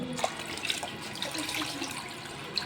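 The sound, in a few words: water being poured into a container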